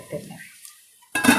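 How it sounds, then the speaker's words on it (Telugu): A lid is set on a pan of frying onions for an egg and ridge gourd curry, a single quick metallic clank after a short lull, close and clear. "మూత పెట్టేద్దాం"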